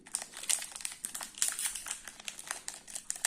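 The crinkly foil wrapper of an old Pokémon booster pack being torn open, a rapid run of close, sharp crackles and rustles with no talking.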